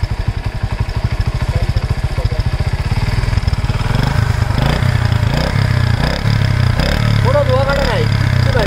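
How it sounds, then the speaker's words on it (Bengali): A Honda CD 80 motorcycle engine runs close by with a fast, chugging single-cylinder beat, then holds a steadier, higher throttle as the revs rise, while someone talks over it. "অ্যাক্সেলেটর বাড়ি দেন ভাই।"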